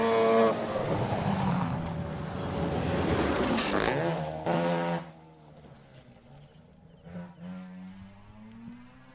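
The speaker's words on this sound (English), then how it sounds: "And that is the unmistakable note of a rotary" A Mazda RX-7 rotary-engined rally car, kitted in Group B style, screams past on a gravel stage at a New Zealand rally, its loud revving note swelling then dropping away before a second, fainter engine approaches.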